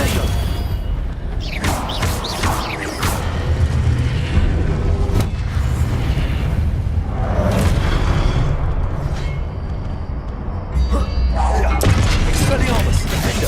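Repeated spell blasts from the Confringo fireball in Hogwarts Legacy, loud booming bursts and crackling impacts piling up over continuous battle noise, with a voice casting spells throughout.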